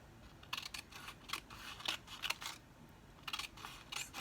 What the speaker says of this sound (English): I'm going to use my scissors to make slices, just up to that one point where I am not going to cut.